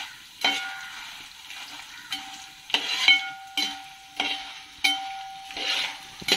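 Curry leaves spit and crackle in hot oil for tapioca chips, a string of about eight loud, sharp pops and bursts spaced roughly a second apart, ringing briefly over a quiet background with no voices.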